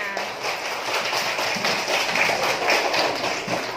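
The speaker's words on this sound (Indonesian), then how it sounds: "Tepuk tangan semuanya." Class of second-grade primary school children applauding together in a classroom, a dense steady patter of many small hands clapping continuously throughout, moderately loud and close.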